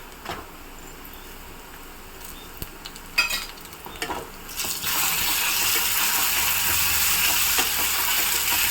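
Ground ginger, garlic, pepper and cumin masala dropped into hot oil for mutton kuzhambu, a few stirring knocks and then a loud, steady hiss of sizzling that continues to the end.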